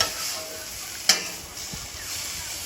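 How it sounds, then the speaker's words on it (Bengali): Mashed raw papaya frying in hot ghee for a sweet, with a soft steady sizzle close by and one sharp clack of a utensil against the pan partway through. "ঘিটা গরম হয়ে গেছে এখন আমি ম্যাশ করা পেঁপেটা দিয়ে দিচ্ছি এবার পেঁপেটা এইভাবে একটু ভেজে নিতে হবে"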